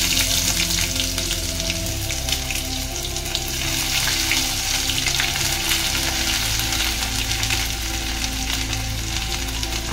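Garlic and ginger paste fries in a hot pan with a steady, even sizzle that carries on throughout, broken only by faint stirring sounds.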